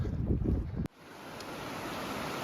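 Rushing water of the Panther River roars steadily as a broad, noisy wash, heavily buffeted by wind on the microphone at first, then settling into a continuous even flow.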